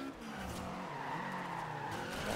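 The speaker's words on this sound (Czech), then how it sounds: "Vidíte, jaký krásný driftík." Tires squeal in a sustained skid as a car drifts through a corner in Forza Horizon 2, the screech wavering over a constant engine drone.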